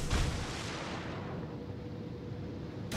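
A heavy gunfire-like boom opens the clip and rolls into a sustained low rumble while torpedoes are fired in the naval battle game World of Warships, loud and without voices.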